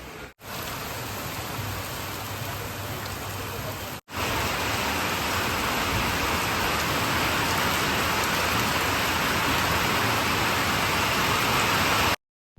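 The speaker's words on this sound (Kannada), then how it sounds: "ಸಖತ್ತಾಗಿ ಮಳೆ ಹೋಯ್ತಾ ಇದೆ ನೋಡ್ತಾ ಇರ್ಬೋದು" Heavy monsoon rain in Sirsi pours down in a loud, steady roar of dense hiss, broken by two brief cuts, continuing unchanged to the end.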